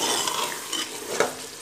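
White lobia masala curry frying in a pan on low heat while being stirred, with a steady sizzle and a few light scrapes and clinks of the spoon against the pot.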